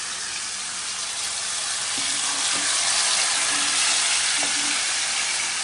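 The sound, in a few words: whole fish frying in hot oil with curry leaves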